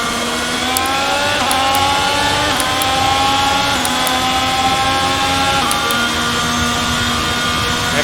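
A Formula 1 car's engine screams through the final lap of the Singapore Grand Prix in F1 2022: a loud, continuous high-revving whine that climbs and dips with rapid gear shifts, with no talk.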